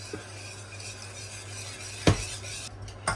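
A utensil stirs white lasagne sauce in a pot as milk is added bit by bit over a low flame, a quiet steady swirl broken by two sharp metallic clinks against the pot's side.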